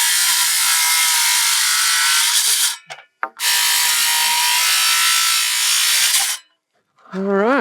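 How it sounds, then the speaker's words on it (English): Power saw cutting through wooden sub fascia boards for roof eaves during house framing, two loud sustained cuts of about three seconds each separated by a short pause, ending with a brief whine as the blade spins down. "Now I've got my 2 sub fascias to cut."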